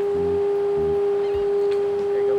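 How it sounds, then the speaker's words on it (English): A foghorn sounding near an inlet: one loud, steady, unbroken tone held throughout, close and dominant, with softer low pulses in the background. "this foghorn would go off, and it'd be right in the middle of the scene every time"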